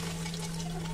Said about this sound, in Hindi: जो बॉयल किया हुआ जो मैंने राजमा लिया है तो वो राजमा इसमें डाल देंगे।